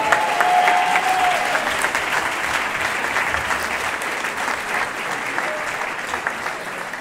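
An audience at a ceremony in Saint Pierre de la Mer applauds the event's entertainment team, a loud, sustained roar of many hands clapping that stays steady throughout without talk.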